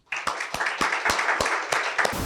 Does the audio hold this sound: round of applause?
yes